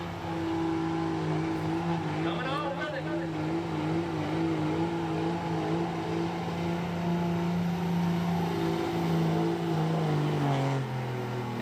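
A 2001 Dodge diesel pickup from Mount Crawford, Virginia, runs in a hot rod diesel truck pull in Fishersville, its engine holding a loud, steady throaty drone with rising and falling revs throughout.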